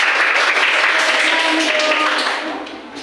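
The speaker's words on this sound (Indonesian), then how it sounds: "Ahsantum, beri tepuk tangan." A classroom of students applauds, a dense burst of clapping that holds steady for a few seconds and then fades out.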